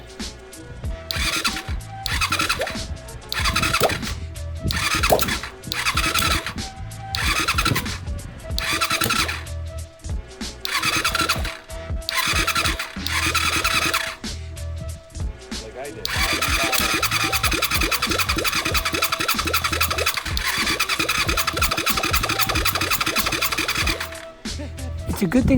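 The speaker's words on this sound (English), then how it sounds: "this makes me want to turn the engine over." A Honda VTR 250 motorcycle engine cranks with repeated loud, rhythmic starter bursts and short pauses, then catches and runs at a steady idle, recorded up close with a person talking over it.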